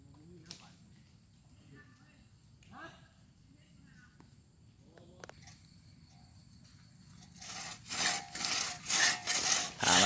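A hand saw cutting wood for a post, starting faint and sparse, then loud, rhythmic back-and-forth strokes near the end, with quiet outdoor insect chirps in the background.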